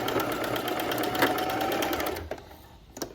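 A domestic sewing machine stitching knit fabric in a fast, steady mechanical whir with rhythmic needle clatter, close and loud, stopping near the end with a couple of faint clicks.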